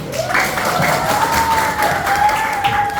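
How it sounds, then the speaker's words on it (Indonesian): An audience at an academic supervision coaching session breaks into applause, a full, steady wash of clapping from many people lasting about three seconds, with a thin sustained whistle-like tone running through it. "Beri tepuk tangannya dulu."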